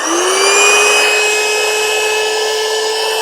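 A small electric motor air pump inflates a car bed, giving a steady, close, high-pitched whine that holds constant throughout.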